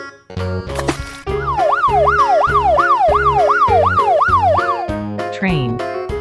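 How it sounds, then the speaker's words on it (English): A police car siren wails rapidly up and down, loud and repeated for several seconds, over a bouncy children's music track, ending with a rising and falling cartoonish tone. "Police car."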